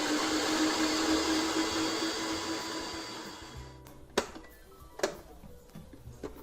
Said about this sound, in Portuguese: vamos voltar a ligar a batedeira em velocidade alta para terminar de bater